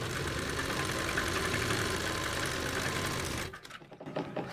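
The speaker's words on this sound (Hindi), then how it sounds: "तो हमने इसी के ऊपर सीधी साइड से एक पैर की सिलाई लगा देनी है।" A sewing machine running a straight line of stitching along a salwar strip whirs steadily at moderate volume for several seconds, then stops, leaving faint handling noises.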